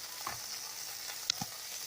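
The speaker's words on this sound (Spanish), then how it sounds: "cebolla, el ajo, pimiento verde y rojo y los estamos pochando" Onion, garlic and green and red peppers gently frying in a pan, a soft steady sizzle with a couple of small clicks from stirring, close and fairly quiet without talk.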